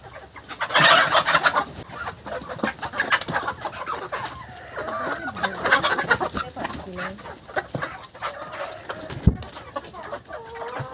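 Domestic desi chickens in a small coop cluck and squawk close by in repeated agitated bursts, with some background voices mixed in.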